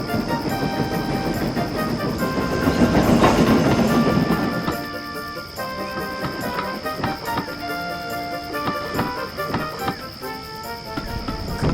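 A heavy goods train rolls steadily along the rails in an animated setting, a continuous close rumble mixed with droning tones and a louder swell around the middle.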